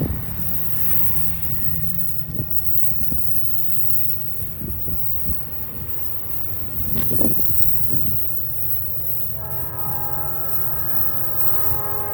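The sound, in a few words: train wheels squealing on rails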